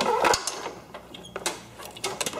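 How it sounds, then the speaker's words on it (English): Clutch cable being pulled out of a John Deere riding mower, a run of close, scattered metallic clicks, rattles and scrapes with no talking. "Pull the cable out from there,"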